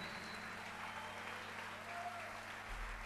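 Steady, dense applause from a jazz festival audience in Buenos Aires, 2007, continuous and even from a crowd heard at some distance, with a faint low thump near the end.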